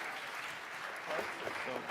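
Soft, distant applause rises from a tech conference audience at a live stage event in Riga, a low, steady patter with a faint voice partway through.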